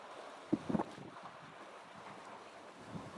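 Wind and water noise around the sailing yacht Quest racing in the Rolex Sydney Hobart, a steady soft rush with a few brief bumps early on, distant and fairly quiet.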